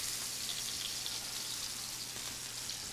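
Frozen edamame tipped into a smoking hot wok with oil, giving a steady, dense sizzle of spitting and crackling close by that holds evenly throughout with no voices.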